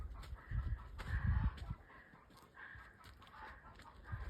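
Chickens cluck and squawk in short bursts, fairly close, with rustling and low thumps underneath.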